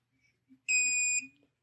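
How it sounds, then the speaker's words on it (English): A single clean electronic beep from an Autel diagnostic tool connecting to a Mercedes, high-pitched and steady, lasting about half a second over near silence. "Once you hear that beep, you're about ready to go."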